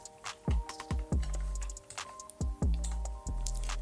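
Quick bursts of keystrokes on a computer keyboard, with clustered clicks and short pauses between runs, close and fairly quiet, while a low tonal hum continues underneath.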